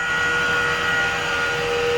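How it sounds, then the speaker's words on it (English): Electric motor running inside a power plant, a steady loud hum with bright tonal whine and constant broadband noise, unchanging throughout with no voices. "That's an electric motor in a plant."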